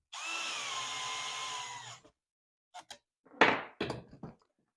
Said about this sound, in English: I use my screw gun to hold it, to screw it in